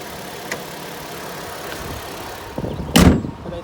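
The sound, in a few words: 2011 Ford Escape engine idling, slightly noisy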